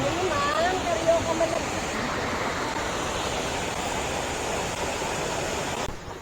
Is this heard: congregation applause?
no